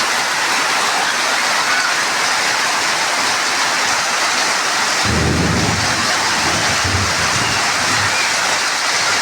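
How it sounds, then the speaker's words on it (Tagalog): Heavy rain and wind roar in a dense, constant wash on a roof, joined midway by a deep low rumble of wind or thunder. "Grabe, lakas ng ulan, mga idol. Ulan at saka hangin."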